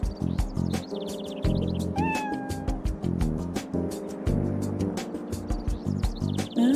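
A cat in the game Trauma Team meows and yowls repeatedly over a loud, rhythmic game music track, the cries rising in pitch near the middle.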